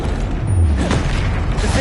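A fiery Confringo spell blast in the Hogwarts Legacy video game: one deep, muffled boom with a low rumbling burst, sitting loud and close among clattering, mechanical game effects.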